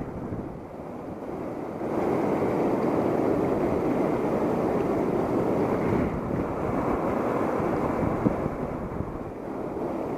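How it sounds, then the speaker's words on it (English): Strong wind roars and buffets the microphone on a rainy day of river fishing for walleye, a steady, heavy rumbling wash that swells after the first two seconds and stays loud throughout. "It's real windy and rainy today."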